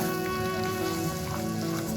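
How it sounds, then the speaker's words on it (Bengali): Spice paste frying in hot oil for a fish-head korma, a dense, continuous sizzle over a steady hum of background noise, close and even for the whole stretch. "এবার এই তেলের মধ্যে পেস্টটাকেও দিয়ে দিলাম।"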